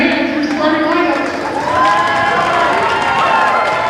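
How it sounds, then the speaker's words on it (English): Hornets girls' basketball fans in a school gym cheering and clapping during starting lineups, a loud, dense crowd roar with shouts and applause filling the space, an announcer's amplified voice talking over it. "Hornets fans in the stands, stand up and clap your hands for starting lineups."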